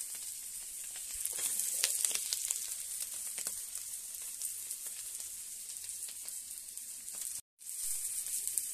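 Potatoes frying in a pan with turmeric and salt, a steady close sizzle with bright hissing that flickers as the pieces shift, cut by a brief silence near the end.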